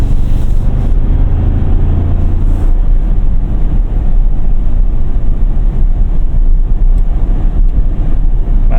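A 2025 Toyota Tacoma TRD Off Road with the i-Force Max hybrid engine drones steadily while driving, a continuous low engine and road roar mixed with wind rush, no talking.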